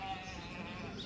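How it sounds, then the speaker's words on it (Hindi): Sheep and goats coming home from grazing near a hotel balcony at Bhartoli bleat faintly in the distance, a thin wavering cry under steady outdoor ambience, with someone speaking over them. "बकरियां चर के धीरे धीरे घर को आने लग गई हैं यहाँ पे"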